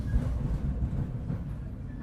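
The KA Dharmawangsa train rolls on curved track into Cikarang station, a low, muffled rumble heard from inside the carriage, steady and fairly quiet for a couple of seconds.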